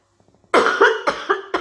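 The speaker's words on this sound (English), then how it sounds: "I'm gonna cough, excuse me." A woman coughs several times in quick succession, close and loud, each burst sharp and raspy after a few faint clicks in near silence.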